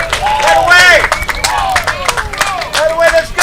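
A minor-league baseball crowd at a Mudcats game cheers, claps and chatters after a 6-4-3 double play, a busy, close ballpark din with shouts rising over steady applause throughout.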